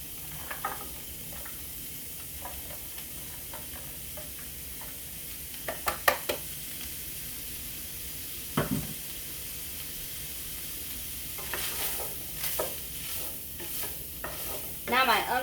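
Onions and ground hamburger cooking in a skillet for goulash, giving a low steady sizzle with occasional scraping stirs and utensil clicks, close by and fairly quiet.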